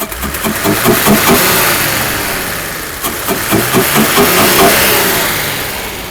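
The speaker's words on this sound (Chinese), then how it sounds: "我们来试着拉一下转速， 反应是非常迅速。" Mercedes R107 280SL engine after a fuel distributor rebuild, revved several times in quick bursts that rise and fall, loud and close, with no talk over it.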